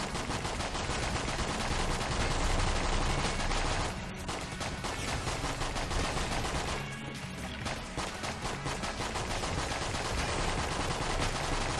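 Rapid gunfire in the Enter the Gungeon video game, a loud dense barrage of shots that runs almost continuously, broken by two brief lulls, with no talking.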